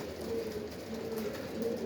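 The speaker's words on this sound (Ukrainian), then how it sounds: "Ось такі голубенятка." Young pigeons coo softly and steadily, close by in a loft, with a low continuous murmur throughout a brief stretch.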